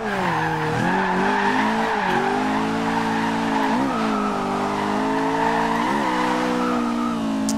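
A 1991 BMW M3 E30 drifting in Forza Horizon 2, its engine droning steadily while the tires squeal and skid continuously through the corners, loud and close with no talking over it.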